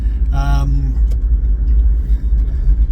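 A Toyota 76 Series driving onto the highway, a loud steady low engine and road rumble from inside the cabin, with a brief voice near the start.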